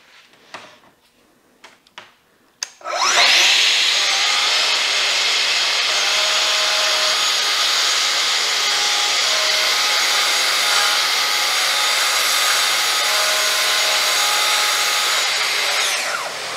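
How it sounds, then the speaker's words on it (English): Saw making a squaring cut through thin-veneer plywood: after a few faint knocks, a loud, close, steady cutting roar starts abruptly and holds for about thirteen seconds before tapering at the end. "I'm going to cut a square edge to begin with"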